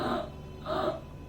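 A doctor imitates a child's noisy stridor or wheeze breathing, producing two breathy, rasping inhalation-like pulses close to the microphone with a short pause between them.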